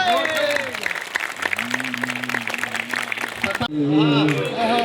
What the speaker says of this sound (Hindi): एक बार पूरा सदन तालियां उठाए